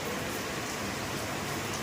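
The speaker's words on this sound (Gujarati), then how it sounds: "આજે તો સવારથી વરસાદ ચાલુ છે" Steady rain falls in a soft, continuous hiss, with no voices or other distinct sounds.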